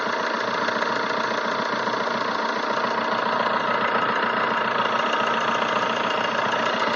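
A 2009 Fiat Linea's engine idles with a steady, even hum and a faint knocking texture, close up and unbroken, with no voices.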